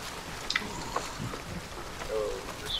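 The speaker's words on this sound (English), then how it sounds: "I had to shift the volume because that fucking rain is so loud." Rain in the video game Hunt: Showdown, a steady patter and hiss of rainfall with a few brief higher game sounds scattered over it, moderately loud, no speech.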